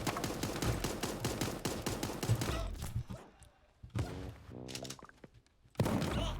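Gunfire in the animal battle royale game Super Animal Royale, with a dense run of rapid shots and thuds, a pause, then a few scattered bursts, ending with a loud shot.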